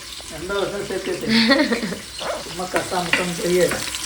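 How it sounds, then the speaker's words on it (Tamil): Onions go into hot oil with golden-brown fried cashews for a home-cooked Bakrid biryani, giving a steady loud sizzle and stirring while voices talk over it. "முந்திரியில் கோல்டன் ப்ரௌன் ஆயிடுச்சு வெங்காயத்தை போடுங்க"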